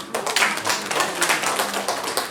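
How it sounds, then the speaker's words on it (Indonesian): An audience at a village stunting-prevention outreach session in Desa Jayanti breaks into dense, steady applause, many hands clapping together at a fairly close, even level for the whole stretch. "tepuk tangan."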